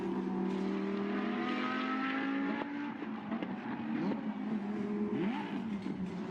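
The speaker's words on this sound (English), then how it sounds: "and vapour coming out of the back of the car as Michael Manella tries to get it fired up once more." A Lamborghini Super Trofeo race car at Misano, smoking after a spin onto the inside curb, its engine cranked and revved repeatedly with rising and falling tones, loud and continuous, no voices.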